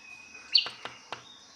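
A wild bird calls outdoors at Ranka in Sikkim: a thin sustained whistle, then three sharp, separate chirps spaced apart, fairly clear against a quiet background.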